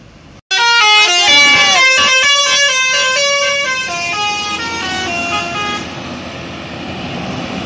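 A tour bus from Rimbo Bujang plays a loud musical horn, a rising and falling series of bright tones that lasts several seconds. It is close and dominant, with engine rumble underneath.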